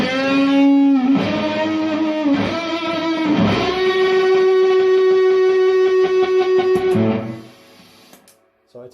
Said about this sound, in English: classic fuzz circuitry with a little bit of a twist, and that sounds a bit like this